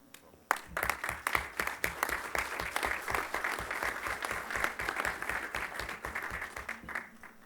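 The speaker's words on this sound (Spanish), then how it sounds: "Un aplauso" Audience members at a judicial forum break into applause, a crisp, close and steady run of many hands clapping that carries on for several seconds before tapering off.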